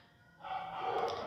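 A dog barks once or twice after a quiet start, moderately loud and somewhat distant, with nothing else heard.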